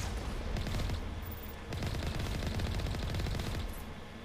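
Sniper rifle shots fired through the scope in the video game Mass Effect, a dense stretch of loud, close gunfire with rapid overlapping reports and a brief lull near the middle.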